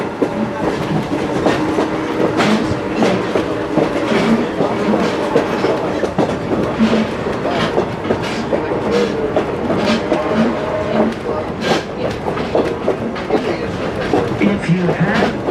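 Strasburg Railroad train carriages rolling along the tracks with steady rumble and clickety-clack of wheels over rail joints, close and continuous for the whole stretch, with faint voices mixed into the noise.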